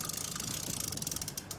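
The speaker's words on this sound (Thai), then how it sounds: "ลอกใช้งานได้ปกตินะครับ หมุนเดินหน้าก็จะมีเสียงแบบนี้นะครับ" A Penn Senator 113H fishing reel clicks in a rapid, even ratchet stream as its handle is cranked forward, close up, quiet and continuous with no voices.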